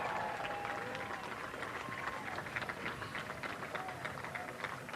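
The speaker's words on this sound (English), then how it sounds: "Lots of applause on the ground here" Applause and cheering on the ground at Virgin mission control during Richard Branson's spaceflight, a faint, distant wash of clapping and crowd noise throughout, with a voice speaking over it.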